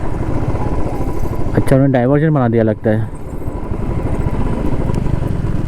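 A motorcycle engine hums and rumbles steadily while riding along a road near the India–Pakistan border, running throughout beneath someone talking briefly.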